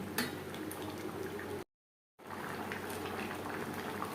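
Rohu fish curry with fried fish pieces and fish head simmering in a pan of gravy seasoned with panch phoron, a steady soft bubbling and ticking that continues close by, broken by a brief half-second gap of silence.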